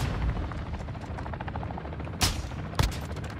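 Call of Duty DMZ gunfire rattles in quick bursts over a droning helicopter-like hum, with two loud, sharp shots standing out near the end.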